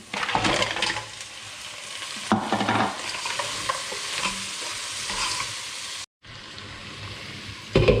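Pieces of mud crab sizzle and fry in a hot pan, with stirring and clattering. The cooking noise is close and steady, broken by a sharp clank, and there is no talking.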